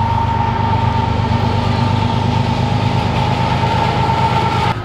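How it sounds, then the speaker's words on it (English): A train rolls past nearby, a loud, steady rumble with a sustained droning tone held for several seconds before it cuts off abruptly; no voices. "it's going to have to wait till after this train passes"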